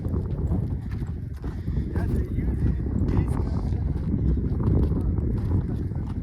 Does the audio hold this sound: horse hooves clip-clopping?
yes